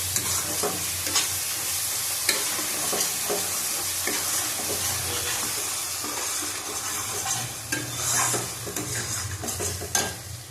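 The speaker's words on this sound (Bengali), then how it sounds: "ভালো করে কষিয়ে নেবো আবার।" Chicken kosha with whole tomato is stirred and sizzling in a pan, with a steady fry hiss broken by repeated scrapes and clinks of a spatula against metal, close and continuous, no talking.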